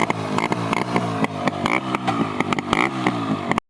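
A motorcycle engine revs hard and repeatedly as a ride begins, loud and close, with rising and falling pitch sweeps, rapid throttle blips and a rough, buzzing note throughout, cutting off abruptly at the end.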